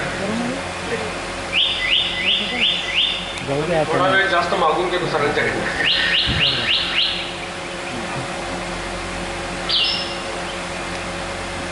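Recorded bird song played through speakers during a birdwatchers' conference lecture in Amravati, with bursts of rapid repeated whistled notes and trills, someone talking over and between the calls in a hall.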